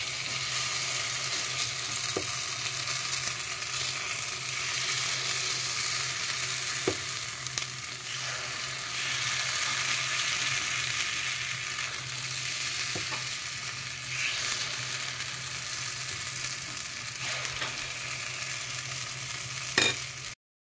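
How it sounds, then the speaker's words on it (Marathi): Rice batter for appe fries in an oiled appe pan with a constant close sizzle and hiss, a low steady hum beneath it and a few faint clicks and taps from handling the pan, with no talking. "तर त्याच्यामध्ये मी असे हे पीठ त्याच्यामध्ये घालत आहे"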